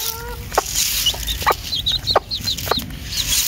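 Young market-bought chicks cluck and chirp in short repeated bursts while being fed scraps, close by over a steady background hiss, with no talking.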